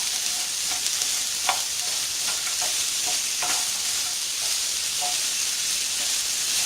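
Egg fried rice is stirred in a hot pan under a constant hissing sizzle, with faint scrapes and soft knocks now and then, close by and without talk.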